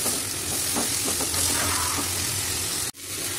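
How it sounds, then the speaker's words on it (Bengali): Chili, coriander and cumin powders fry in a pan with a dense, even sizzle and a few stirring scrapes, then stop abruptly before the sizzle resumes. "1 চামচ লঙ্কা গুঁড়ো, 1 চামচ ধনের গুঁড়ো, 1 চামচ জিরের গুঁড়ো। এবার এই মশলাগুলো খুব ভালো করে আমি কষিয়ে নেব।"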